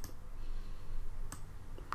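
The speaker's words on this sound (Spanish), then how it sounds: "hacemos clic en este botón" A single mouse click on a button on a computer, sharp and close against a low steady background hum, with a second faint tick near the end.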